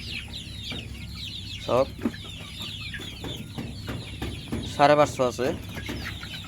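Sonali chickens on a poultry farm in Abhayapuri, clucking in short bursts, with a couple of louder calls near the start and middle over a busy background of birds, while someone talks.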